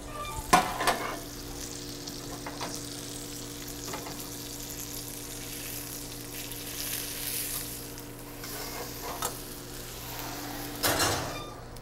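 Nut-crusted monkfish sears in a hot pan, a steady close sizzle with a few sharper pan knocks and shuffles near the start and end, no talk.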